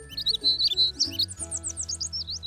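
Cartoon baby bird chirping in a children's animated show, a rapid series of high, bright tweets over a soft musical backing, clear and close.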